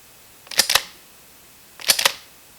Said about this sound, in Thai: เสียงขึ้นลำของปืนลูกซองระบบปั๊มแอคชั่นนี้ มันข่มขวัญนนะครับ